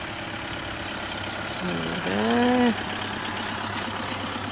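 A low, steady tugboat engine rumble runs throughout, with a short rising tonal whine in the middle before settling back to the idle drone, on an extremely cold morning.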